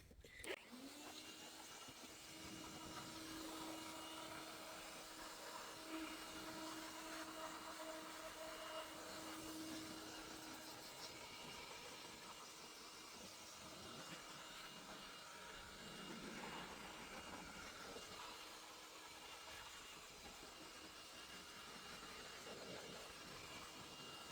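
A steady, loud rushing blast of air from a blower drying a car engine bay, running continuously, with a faint whine early on and no voices.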